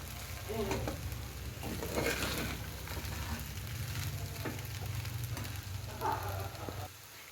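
Sabudana bagar, made from tapioca pearls, being stirred in a pan, with a steady sizzling fry and intermittent scraping strokes against the pan running throughout, close and continuous.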